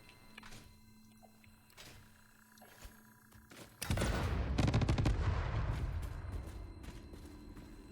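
Cluster fireworks from Satisfactory burst in a sudden loud crackling barrage that starts partway through, a dense spray of pops and booms that keeps rumbling and slowly fades, with quieter clicks and hum beforehand.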